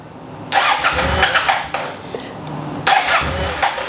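A Yamaha TMAX 500 scooter under restoration, prone to dying soon after idling, cranks and catches with a sudden loud start, runs roughly for a moment, then fires up again, close and dominant.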